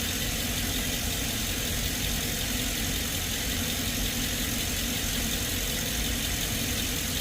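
A car engine with a dead coil and worn spark plugs idles steadily during a misfire test, a rough, even rumble heard close with no talking.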